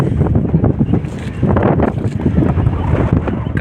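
Strong wind buffets the microphone in loud, gusty rumbles that continue throughout, at a cricket tournament match in Salem.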